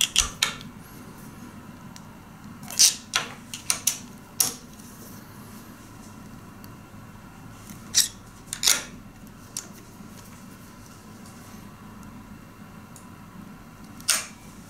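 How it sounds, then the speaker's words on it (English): Bolts tightened on the Y-axis of an RCNC X2 CNC router, scattered sharp metallic clicks and ratchet-like ticks in small clusters over a low steady background, close by and without talk. "With everything self-aligned, it's time to tighten the bolts."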